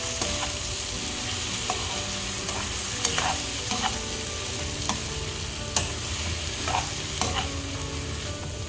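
Bitter gourd and egg frying in a pan are stirred, giving a steady sizzle broken by repeated scraping strokes of a spatula, close and with no talking.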